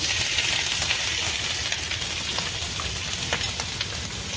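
Minced mutton keema sizzles steadily in a hot pan, a dense, continuous frying hiss with occasional soft stirring clicks, close and fairly loud throughout.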